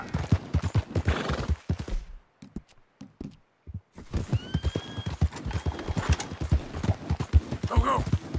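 Horse galloping in the Red Dead Redemption 2 game, with steady clip-clop hoofbeats and a whinny, broken by a short lull midway before the hooves resume alongside other game sounds.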